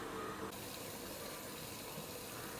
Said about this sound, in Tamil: இப்போ தண்ணி கொதித்து நல்லா மேலே ஸ்டீம் வர ஆரம்பிச்சிருச்சு